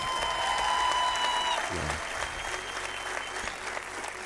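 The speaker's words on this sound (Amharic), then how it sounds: "አጨብጭቡለት በእውነት።" A church congregation bursts into sustained applause, a dense wash of clapping that fades after a couple of seconds, while a voice rises briefly over it near the start.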